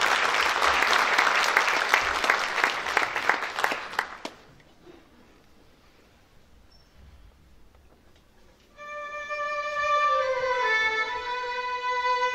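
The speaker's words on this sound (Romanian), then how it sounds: "Vă rog să-i primiți cu aplauze!" Audience applause for folk music performers at a spring show by folk classes of a culture and arts centre, a dense burst of clapping for about four seconds that cuts off, followed by quiet and then a sustained instrumental tone.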